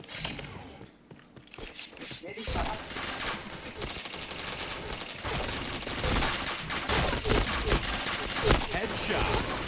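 Rapid video game gunfire, bursts of sharp automatic shots and mechanical clicks, dense and loud throughout, with people talking over the action.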